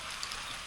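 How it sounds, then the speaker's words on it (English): Rain falling outdoors on an off-grid Alaska farm, a dense, even hiss of drops with a few faint taps, steady and close. "It's raining"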